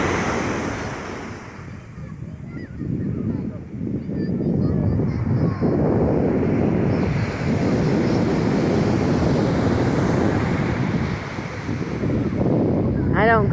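Atlantic Ocean surf washes onto the beach at Cotonou, Benin at sunset, a continuous close roar of breaking waves with wind buffeting the microphone and a brief chirp near the end.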